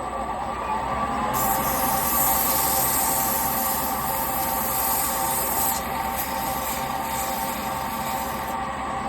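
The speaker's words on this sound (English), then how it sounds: "I'm going to just quickly sand this with some linear sanding" Continuous abrasive rubbing of linear hand sanding on a dyed wooden bowl, steady and loud throughout, with a constant dust collector hum underneath and no talking.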